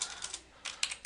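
Keys on a computer keyboard clatter in two quick bursts of typing separated by a short pause, close and fairly quiet.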